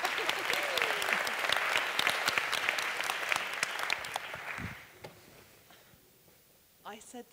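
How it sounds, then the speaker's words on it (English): Audience round of applause at a talk, dense clapping that fades out midway, leaving quiet before a voice begins speaking near the end. "They give you a round of applause, and it's great if you stand up"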